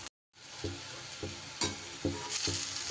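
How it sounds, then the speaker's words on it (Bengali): Small portions of a cauliflower and split-pea lentil pakora mixture sizzle steadily in hot oil, with a constant bright frying hiss and soft regular knocks as pieces are added or stirred, after a brief silent gap at the start. "তেল গরম হয়ে গেলে এইবার ফুলকপি আর মটর ডালের এই মিশ্রণটা এরকম ছোট ছোট আকারে ভেজে নেব।"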